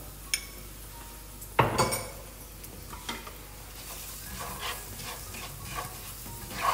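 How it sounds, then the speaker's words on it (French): Chopped shallots hit a hot pan, then white wine goes in to deglaze: a sharp clatter of utensil on pan, followed by a soft, steady sizzle with light stirring scrapes and occasional clinks, quiet and close, no voices. "Donc là, on va rajouter l'échalote"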